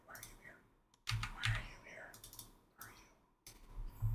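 Typing on a computer keyboard at a UNIX command line, with clustered key clicks in short bursts separated by brief pauses, close and moderately quiet, with soft speech-like sounds partly mixed in.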